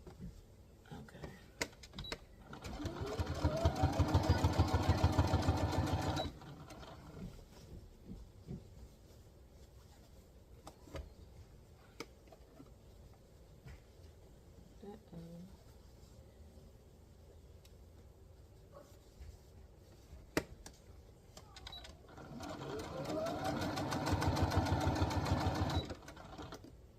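A sewing machine stitches vintage sheets in two separate runs of steady mechanical whirring with a rapid needle rhythm, with quieter handling and faint talk in the long stretch between them.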